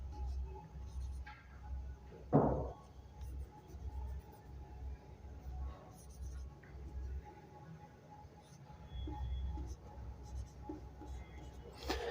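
A pen writes on paper while working a class 10 maths problem, giving quiet, close scratchy strokes in short bursts with pauses over a low background hum.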